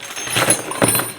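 A jumble of small tools and parts for a backpack leaf blower dumped out at close range, with two short rattling clatters of metal and plastic pieces.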